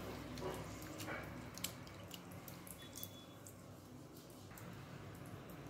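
Rice being washed by hand in a bowl of water, faint soft sloshing and dripping with a few small splashes, close and quiet, no talk.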